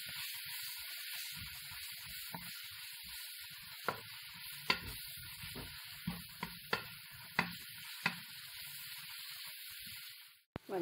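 Onions sauté in a pan for a vegan vegetable anchar, a steady hiss of frying running throughout with intermittent sharp scraping taps of a spoon stirring, ending with a brief clatter.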